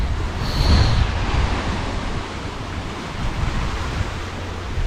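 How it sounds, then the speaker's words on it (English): Strong sea breeze blows at a Thai shoreline near Khao Laem Ya, Mu Ko Samet, Rayong, a loud, steady rush of wind buffeting the microphone over the distant roar of surf, with a gust near the start and no voices. "Nice sea breeze today, very strong breezes."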